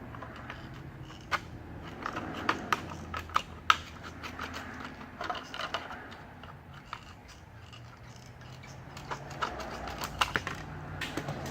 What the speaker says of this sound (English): I'm going to cut off a bunch of plastic so that I can do some scoring and snapping